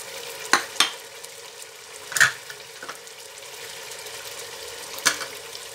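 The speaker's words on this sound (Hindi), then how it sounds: "और इनको भूनेंगे" Chicken vegetable rice seasoned with black pepper frying in a pan, with a steady low sizzle and several distinct scraping clinks of a spoon stirring it, no voices.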